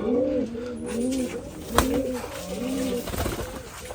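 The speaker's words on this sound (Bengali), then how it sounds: "তো আগে আমরা কবুতরগুলো দেখাই" Rajshahi Giribaz pigeons at a farm of more than 500 birds give repeated rolling coos close by, with one sharp click partway through.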